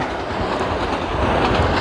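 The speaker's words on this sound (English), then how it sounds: "here comes the train" A train passing close by, a loud continuous rumbling roar with faint rhythmic wheel clatter that stays steady for nearly two seconds, heard alone without talk.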